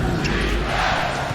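A packed basketball arena crowd roars in a steady, dense wash of noise during a tense NBA half-court possession, loud and continuous throughout.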